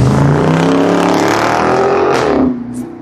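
A car engine revs hard nearby on a city street, a loud, sustained roaring rev that holds for over two seconds before dropping off sharply as the car pulls away.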